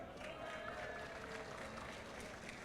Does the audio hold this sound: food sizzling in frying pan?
no